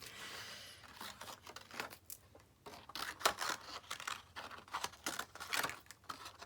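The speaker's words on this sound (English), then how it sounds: "So I like to cut everything into smaller pieces first." Scissors cutting through card to make smaller pieces, a series of close, crisp snipping and rustling strokes coming in irregular bursts, with no talking.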